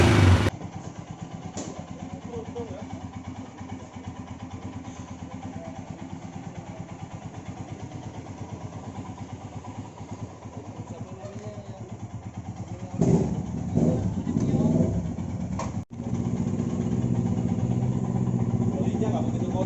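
A Royal Enfield motorcycle engine runs steadily at a low idle, then revs up harder near the end with a rougher, louder roar.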